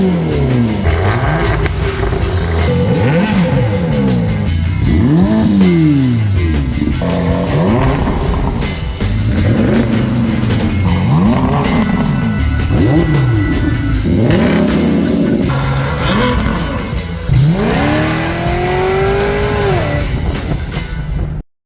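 A Chevrolet Avalanche pickup driving, its engine repeatedly revving up and shifting through gears in loud, steady cycles, heard from close by and with no talk.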